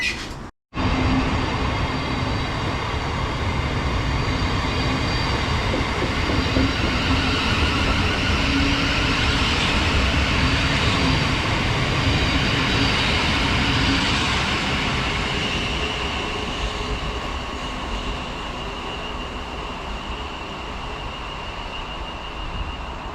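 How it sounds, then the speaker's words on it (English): A Class 700 Thameslink train departing a West Sussex station, a loud, sustained close rumble and electric whine of the train pulling out that holds steady for about twenty seconds before easing slightly as it moves away. "There goes 700 151 on the 1133 Thameslink service to Peterborough."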